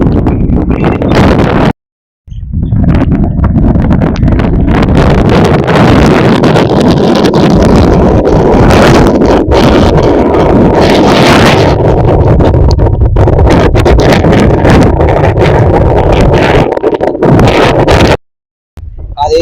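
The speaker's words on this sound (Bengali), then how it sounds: "ভীষণ হাওয়া দিচ্ছে।" Strong wind buffets the microphone beside a river crowded with moored boats, a loud continuous roar with brief gaps near the start and end.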